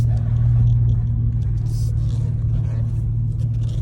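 A deep, steady car exhaust rumble with Super 10 mufflers and the resonator deleted, idling close by, low and droning throughout with slight fluctuations.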